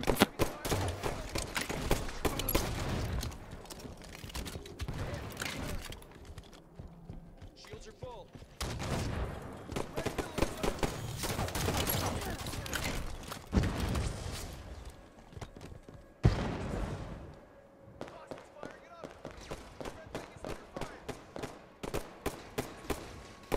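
Weapons fire in bursts during a Halo-style team arena match in a coliseum, with rapid volleys of sharp shots broken by short lulls, loud and dense, while a voice talks over parts of the action.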